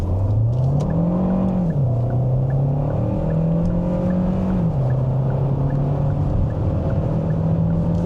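A 2026 Hyundai Tucson facelift hybrid driving downhill, heard from inside as a steady low engine drone that shifts pitch in small steps, with continuous road rumble and no talk.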